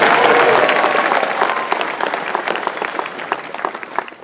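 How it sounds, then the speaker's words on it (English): A crowd of season pass holders at Busch Gardens Williamsburg breaks into loud applause with a few whistles and cheers, the clapping thinning out and becoming more scattered as it fades. "Give yourselves a big round of applause for being so great."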